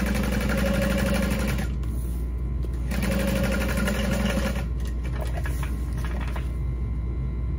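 Sewing machine top stitching a backpack, a loud, fast mechanical whirr running in bursts with brief pauses between runs.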